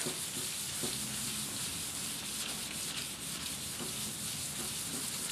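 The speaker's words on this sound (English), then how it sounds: "gonna start sanding with this" Close, steady rasp of 400-grit sandpaper rubbing back and forth over a wooden board, continuous and fairly quiet with a soft rhythmic scrubbing texture.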